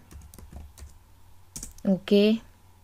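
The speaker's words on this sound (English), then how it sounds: "I'm going to type pabbly.com" Typing a URL on a computer keyboard, a few soft keystroke clicks spread out, followed by a voice speaking briefly over them.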